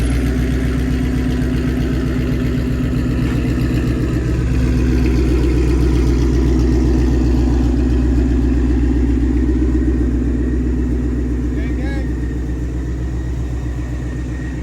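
A supercharged Ford Mustang engine runs with the hood open, a loud, close, steady idle rumble with a faint high whine riding over it, swelling slightly midway and easing off toward the end.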